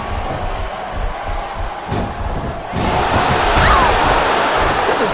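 Arena crowd roaring during a Torrie Wilson vs Jillian Hall match in WWE SmackDown vs RAW 2007, a steady wash of crowd noise that swells louder partway through, with scattered thuds from the ring.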